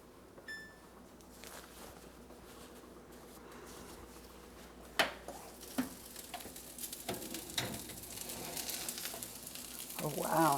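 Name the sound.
baked salmon sizzling hot from the oven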